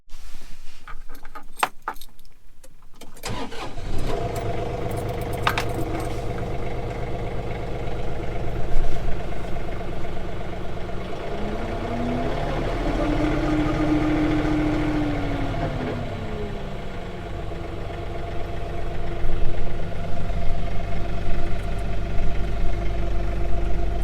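John Deere 3039R compact tractor: keys jangle first, then the engine cranks and catches, settling into a steady close idle with a brief rise and fall in revs midway.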